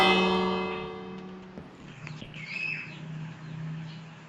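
A bell rung in a survival video game rings out with a bright, sustained metallic tone that fades over a few seconds, followed by fainter tonal chimes and quiet game ambience.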